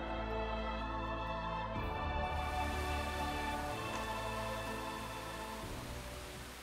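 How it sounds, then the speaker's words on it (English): Heavy rain pours in the video game Exist Archive, a dense, steady hiss of downpour that fills the scene with no talking. "it just started pouring out of the blue. Look at all this rain."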